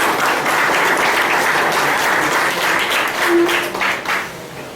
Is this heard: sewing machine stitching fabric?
no